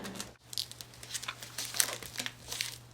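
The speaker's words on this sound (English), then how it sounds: "we're going to tape this last piece on, and then we'll be ready to start wrapping with our duct tape" Duct tape crinkles and rips in short, close bursts as it is stuck over pieces of foam to build a homemade foam roller, with no voices.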